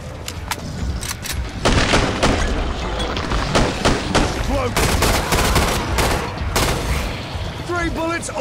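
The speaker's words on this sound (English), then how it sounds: "Kalashnikov does it again!" Kalashnikov rifle fire in the Killing Floor 2 video game comes as rapid, loud bursts of close gunshots, with short pauses between volleys. Heavy impacts and game effects mix in, and brief chimes sound near the end.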